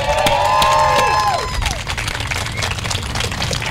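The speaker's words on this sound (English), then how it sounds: "I want to give Charles one more big round of applause" Outdoor crowd applause and cheering at an Ark Encounter protest, a loud burst that settles into steady clapping, with whistle-like tones streaking over the start.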